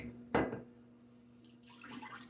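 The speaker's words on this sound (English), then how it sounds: "Let me get my face wet" Water from a bathroom tap splashes as someone wets their face before a wet shave, with one loud close splash followed by a softer running trickle and more splashing near the end.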